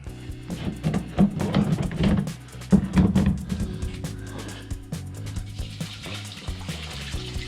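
A garden hose watering a lawn after a fertilizer application, with a close, splashing, hissing water stream that varies in strength and tapers off toward the end, along with some handling noises.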